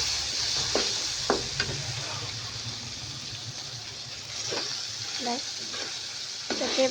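A fish head fries in a cooked-down spice masala, giving a steady sizzle under scattered clinks and scrapes from stirring, moderately close with no one speaking.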